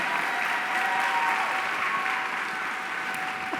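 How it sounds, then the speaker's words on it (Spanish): A studio audience applauds steadily to welcome a guest onto a Spanish-language talk show, a dense, even wash of clapping that holds at full strength for several seconds with no voices over it. "vamos a recibirle con un fuerte aplauso"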